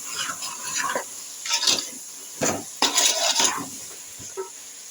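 A spoon scrapes and stirs salt into sambar in a pot, producing a few intermittent metallic scraping strokes up close, separated by quiet pauses.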